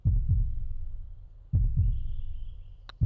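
Steady heartbeat pulse in the PGA 2K23 golf game, with paired low thumps repeating about every one and a half seconds, a faint high tone drifting above them, and a short bright tick near the end.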